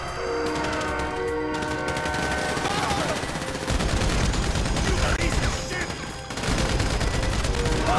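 A train approaching in GTA V during a heist: a loud, sustained horn-like tone and rumbling rail noise mixed with bursts of rapid gunfire, heavy and continuous, growing denser partway through.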